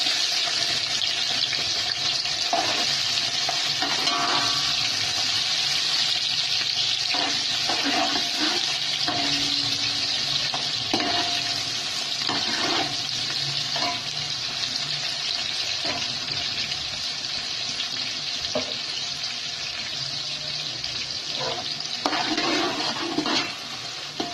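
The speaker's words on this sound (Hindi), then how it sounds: "ये देखिए तेल हमने डाल दिया पतीले में, और ये प्याज हम डाल देंगे।" Onions hit hot oil in a cooking pot for Karachi-style biryani and set off a loud, steady sizzle. The dense hiss carries on for the whole stretch, with scattered crackles and pops and no talking.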